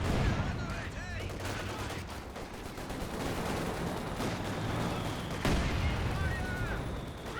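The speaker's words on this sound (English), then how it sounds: "do also now have the 152mm barrage being cast in somewhere" Heavy, sustained gunfire and booming impacts from a 152mm artillery barrage in Company of Heroes, a dense rolling battle din with a sharp blast near the end, under a caster's voice.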